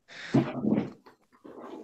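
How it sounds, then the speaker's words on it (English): A neighbor's dog in a yard gives a couple of short whimpering, yipping bursts close by, with a brief pause between them and no talking. "I think the neighbor's dog's in the yard"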